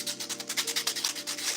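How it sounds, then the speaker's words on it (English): Sandpaper rubs over a small, rough 3D-printed part in quick small circles, producing a close, rhythmic scratchy swish that pulses evenly several times a second. "my method to doing this when sanding is to go in circles, small circles"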